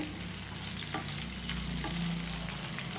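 Coriander seeds, cumin and green chilies dry-roasting in a pan for a ridge gourd and peanut chutney, with a steady sizzling crackle and occasional scrape of stirring throughout, close and even, with no talk.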